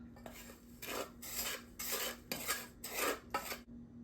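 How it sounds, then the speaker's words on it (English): Ingredients for an iced coffee drink stirred in a small saucepan, about six rhythmic scraping strokes in quick succession, quiet and close. "All of these I'm going to pop into my little saucepan and give it a stir."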